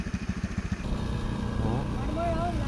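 A motorcycle is ridden during practice. The engine putters in a steady, rhythmic idle, then a smoother, louder running note takes over as it moves off, fairly close with no talk.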